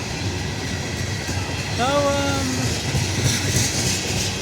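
A train rolling along a railway spur in Central Ohio, a loud continuous rumble of wheels and cars close by, with a brief rising squeal or whistle tone in the middle.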